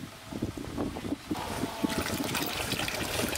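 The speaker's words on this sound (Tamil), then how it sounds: "தண்ணி நல்லா வடிஞ்சுக்கிட்டு இருக்கட்டும்" Water trickles and drains steadily from freshly rinsed, soaked vermicelli in a strainer, a soft continuous wet patter at close range with no voices.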